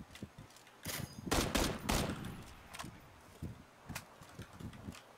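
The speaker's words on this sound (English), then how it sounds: "keep firing at them" Bursts of gunfire in a PUBG match, several loud close shots clustered early, followed by scattered quieter single reports, with little else around them.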